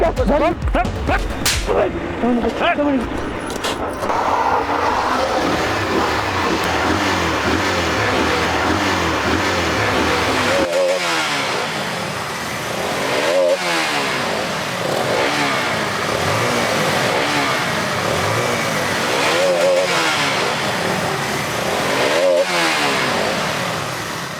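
Motorcycle and car engines roar and rev continuously around a bus in a roadside hold-up scene, with repeated swelling passes on both sides at close range and voices mixed in underneath.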